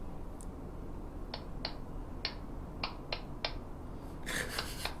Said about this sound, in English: Here is your clapping.